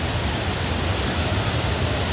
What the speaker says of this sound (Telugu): సో అసలు వాటర్ ఫాల్స్ చూడండి